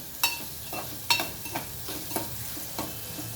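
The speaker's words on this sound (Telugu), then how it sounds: "ఈ మనం చిన్నగా కట్ చేసుకున్నాం కదా పుట్లకాయ ముక్కలు అవి కూడా వేసుకోవాలి" Small chopped pieces of snake gourd stirred in a hot pan, a steady sizzle punctuated by about five distinct scraping knocks of the spoon at a slow, regular pace.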